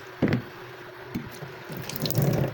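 String beans rinsed under a running kitchen tap, water splashing and trickling into the sink in bursts, close by and fairly loud, with no talking.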